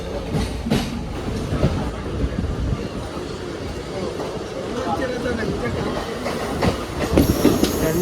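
A Mumbai local suburban train runs between CSMT and Masjid with continuous carriage rumble and clickety-clack of wheels, heard from inside the coach. Someone talks over the noise and other voices murmur in the background.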